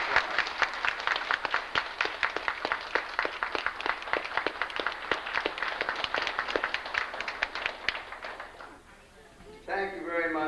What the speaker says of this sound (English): a real round of applause